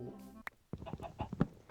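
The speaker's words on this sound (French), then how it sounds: "Une poule." A chicken in the video game Minecraft gives a few short, clipped clucks in quick succession, close and moderately loud, following a brief tonal sound.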